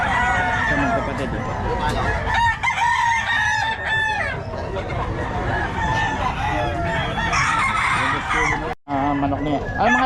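Roosters crow repeatedly among clucking chickens at a busy, noisy poultry market, with people talking in the background throughout.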